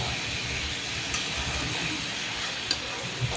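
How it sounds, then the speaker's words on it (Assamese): Taro pieces fry in a pan of spices, giving a steady, close sizzling hiss that runs unbroken throughout, with a few faint clinks. "এতিয়া লাহে লাহে কচুখিনি দি দিলে, কচুখিনি দিয়াৰ পিছতো আৰু অলপ টাইমমান ভাজিব লাগিব।"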